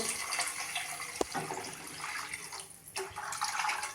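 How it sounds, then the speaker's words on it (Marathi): About a litre of water pours from a pot in a continuous rushing stream, with a brief knock partway through and a short dip before the flow resumes. "साधारण एक लिटर एवढं पाणी घालतेय"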